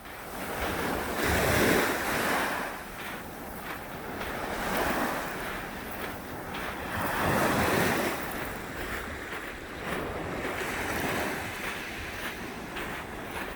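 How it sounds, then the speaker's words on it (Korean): Waves crash and roll onto a rocky, pebbly beach at Padori on a foggy coast, a loud continuous surge swelling in repeated crests every few seconds, with wind rushing over the microphone and no voices. "유독 바위와 자갈이 많아서 파도 소리가 크기 때문에 파도리라고 불린다네요."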